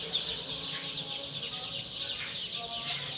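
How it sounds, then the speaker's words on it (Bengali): A flock of super hybrid chickens clucking and chirping together in a pen, a continuous busy chorus of many birds at moderate distance with no clear speech. "আপনারা সরাসরি দেখেন সুপার হাইব্রিড মুরগি"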